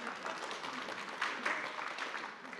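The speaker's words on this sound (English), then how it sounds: "If you want to applaud, don't stop." Soft, distant applause from an audience at a climate action panel event, a steady patter of many hands clapping that carries on evenly without voices on top.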